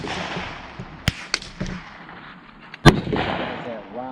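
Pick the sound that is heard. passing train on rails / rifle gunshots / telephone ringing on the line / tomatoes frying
rifle gunshots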